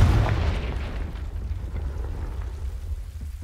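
A Confringo fire spell bursts in the video game Hogwarts Legacy: a heavy, low booming blast up front that rolls into a sustained rumbling, crackling wash, loud and close with no talk.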